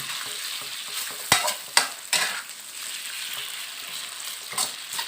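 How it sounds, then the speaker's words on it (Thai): Marinated pork stir-fried in a hot pan, with a constant sizzle broken by several sharp spatula scrapes and clacks, three close together early and another near the end. "ผัดหมูให้สุกนะครับ"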